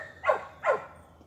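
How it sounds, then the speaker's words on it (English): A dog barks twice, two distinct mid-pitched barks roughly half a second apart, close and fairly loud over a low background hum, with no talking. "My dog's barked too much."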